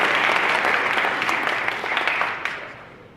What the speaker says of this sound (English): If you can give a round of applause for these guys.